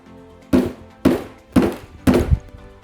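Four sharp pops from a food container being pried open, spaced about half a second apart, each a loud thunk-like burst like a tiny explosion, with no other sound between them.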